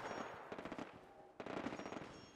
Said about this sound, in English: Sounds like someone's got a machine gun.